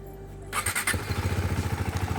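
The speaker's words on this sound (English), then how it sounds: "Let me turn on the engine and I can show you the lights." A Husqvarna Svartpilen 250 motorcycle starts up: a brief starter whir, a quick catch and rev, then settles into a fast, even single-cylinder idle putter, close and clear.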